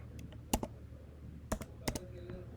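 A few sparse key taps on a MacBook computer keyboard as a serial number is entered, in about three close, quiet clusters with pauses between them and no talking.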